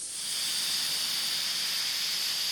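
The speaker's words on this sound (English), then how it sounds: "This energy is used to heat water, producing steam." An AI-generated steam hiss effect, a loud continuous broadband hiss that swells in over the first half second and then holds steady, with nothing else heard.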